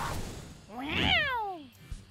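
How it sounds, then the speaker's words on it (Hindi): An animated cartoon cat gives one drawn-out meow that rises and then falls, loud and close, after a short bit of noise and before a small knock at the end. "बदबूदार बिल्ली।"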